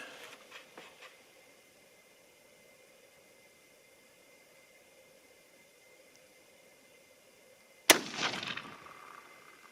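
A single sharp, loud .243 Winchester rifle shot fired with 70-grain bullets cracks out near the end after quiet outdoor ambience, followed by a short rolling echo.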